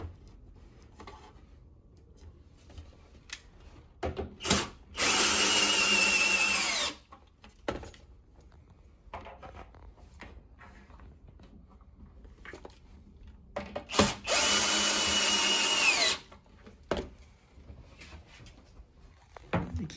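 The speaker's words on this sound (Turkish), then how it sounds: "Yıldız tornavida, şarjlı matkap ile kurulumunu gerçekleştirebilirsiniz." A cordless drill drives thick connecting screws while a wardrobe is being assembled, giving two loud sustained whirring bursts of about two seconds each, with quieter knocks and handling clatter of the panels in between.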